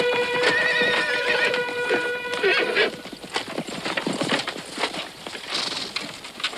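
A period horse scene from the 1986 Christopher Columbus film: hooves clip-clop steadily, a horse whinnies clearly at the start, and birds and voices sit in the background.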